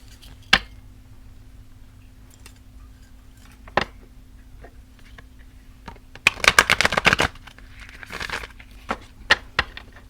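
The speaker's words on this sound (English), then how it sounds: "A couple hard shuffles on the table." Tarot cards are given a few hard riffle shuffles on a table, producing a dense, crisp flurry of rapid clicks and flutters, preceded by scattered isolated card taps and handling noises, close and clear with no talking.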